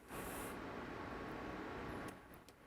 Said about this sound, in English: And apologies for the fan noise.